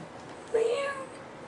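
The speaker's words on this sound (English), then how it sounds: "How many cats is in that hallway meowing?" A cat meows once in a hallway, a single clear, fairly close drawn-out cry that rises and falls, heard amid background chatter.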